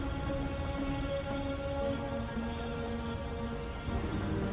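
Retroact rain in Wuthering Waves hisses as a dense, steady downpour under a low game ambience drone, continuous and even throughout with no voices.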